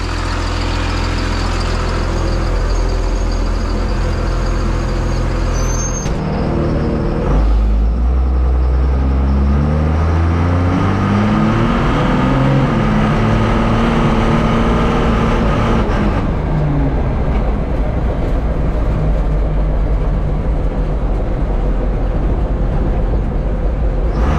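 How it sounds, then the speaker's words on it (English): A triple turbo Cummins diesel race truck drives along a road, its engine droning loudly and rising through gears in a long sweeping pull before settling back to a steady rumble, heard close from inside. "I'm just gonna drive it up and down the road."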